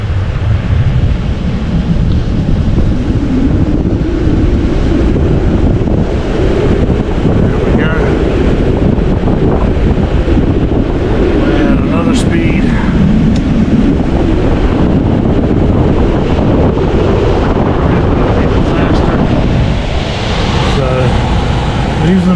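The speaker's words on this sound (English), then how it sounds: "And there goes our motor. Now it's running." A car's AC blower fan motor runs steadily, a broadband rushing whoosh filling the whole clip at a constant loud level, with voices talking over it.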